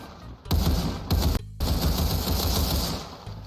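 An AK rifle in Roblox Criminality fires in loud, close automatic bursts, a fast rattling stream broken by a couple of short pauses.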